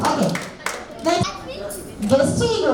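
Several people clapping loudly together at a child's first birthday party, a short burst of bright claps mixed with the chatter of voices and children.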